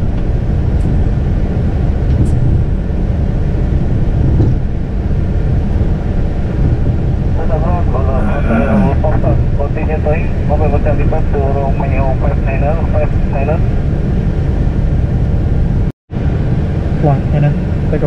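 Boeing 737 jet engines in a flight simulator game, a loud steady roar filling the whole stretch, with someone talking over it and a brief drop-out near the end.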